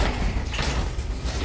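A door slides or swings open with a brief rumbling scrape and thud, close by and fairly loud in a room during a parent-teacher meeting.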